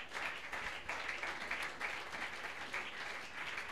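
A church congregation applauding during a seminar, a continuous even roar of many hands clapping, soft and somewhat distant, holding steady for several seconds.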